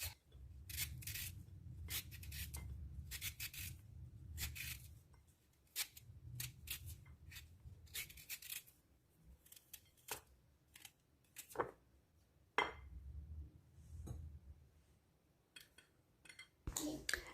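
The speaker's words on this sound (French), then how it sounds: "j'ai pris 3 patates douces, je vais les éplucher et les couper en cubes." Sweet potatoes being peeled and cut into cubes in a kitchen, with repeated close scraping strokes and sharp knife taps on a board in irregular bursts, separated by quieter gaps.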